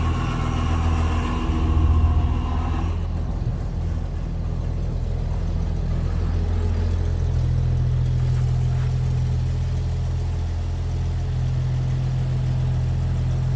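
A 1954 Chevy truck engine idles steadily up close, a deep continuous rumble with a faint whine riding on top, slightly louder and busier in the first few seconds before settling into an even drone.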